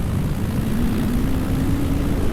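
Two-stroke paramotor engine droning steadily overhead, a continuous buzzing propeller hum that holds level and fairly loud for the whole stretch, with no voices.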